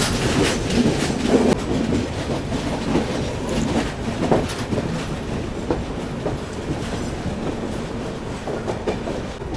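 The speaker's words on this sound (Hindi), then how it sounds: "वापस से अपनी ट्रेन को लूप लाइन पर लगा दिया गया है" The Mandovi Express on the Mumbai–Goa line rolls along the rails with a continuous rumbling roar and steady clickety-clack from the wheels, heard from on board.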